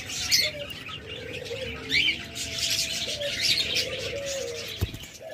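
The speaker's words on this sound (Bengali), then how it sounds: "master pair lovebird" A master pair of lovebirds, sold by a bird dealer, chirps near and far in repeated short calls, with soft cooing and a brief flutter of wings in the background.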